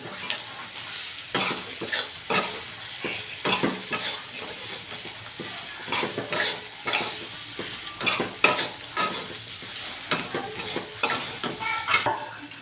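Poha with potato and onion being stirred in a frying pan, rhythmic scraping strokes of a spoon against the pan over a soft steady sizzle, close and clear.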